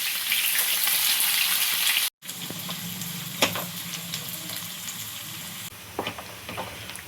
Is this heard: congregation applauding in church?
no